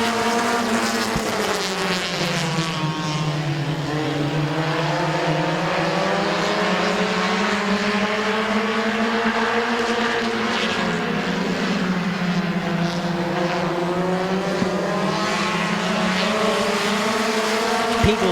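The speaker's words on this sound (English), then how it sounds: "Eight-lap heat race number 1 for the Phillipson Towing Compacts is underway" Compact race cars roaring through an eight-lap heat race at a speedway, a loud continuous engine drone rising and falling in pitch as the cars pass and accelerate, with no talk.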